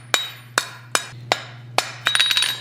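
A hammer strikes hot steel on an anvil while chamfering the edges of an owl-shaped blacksmith's punch, giving five evenly spaced ringing blows followed by a quicker flurry of lighter hits, close and clear with no talk.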